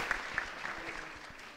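An audience at a conference applauds for a short spell, soft scattered clapping in a room, faint and fading out.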